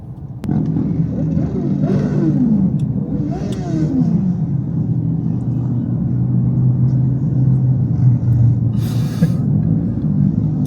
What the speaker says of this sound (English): There is a literal dirt bike parade happening.